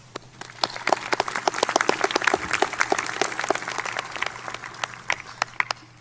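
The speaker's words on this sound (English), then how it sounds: "Have a round of applause." Sustained applause from a graduation ceremony crowd, dense rapid clapping filling the hall at steady loudness for several seconds with no talking.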